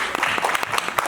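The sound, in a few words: audience applause at an event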